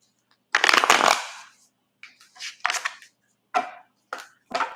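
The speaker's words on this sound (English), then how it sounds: "If I can shuffle" Playing cards are shuffled in a loud, crackling riffle burst, followed by several shorter, sharp flicks and snaps at close range with no talk.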